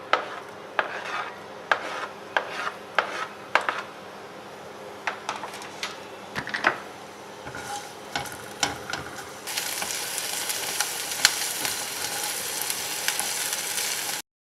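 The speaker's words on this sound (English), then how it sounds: "I'll add onion, one chopped onion." Chopped onion frying in a pan for poha, starting with repeated scraping and stirring strokes against the pan, then settling into a loud, steady sizzle.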